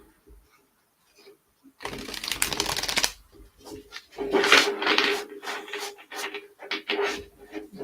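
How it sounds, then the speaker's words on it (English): Playing cards riffle-shuffled by hand during a casual card-reading session: a burst of fluttering card riffles, a pause, then several shorter ruffles and taps, close and fairly loud. "Let's do a riffle shuffle, shall we?"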